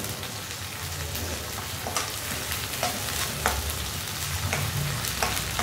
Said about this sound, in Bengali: যে পেঁয়াজটা একটু ভেজে নিলাম, তারপরে রসুন দিয়ে দিব।